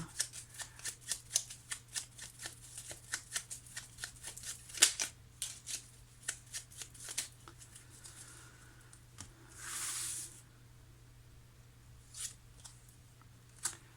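Tarot cards are shuffled and handled up close in a quick run of soft, crisp riffling flicks for several seconds. A brief rustling sweep follows, all faint and without speech.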